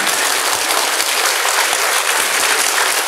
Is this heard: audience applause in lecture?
yes